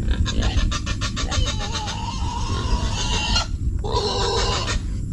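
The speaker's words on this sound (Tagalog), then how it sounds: "pasensya na sa mga baboy mga kapangil, no? Maingay, mga native na baboy natin." Shrill, repeated squeals and grunts from several native pigs, loud and continuous, with a brief lull near the end before the noisy calls resume.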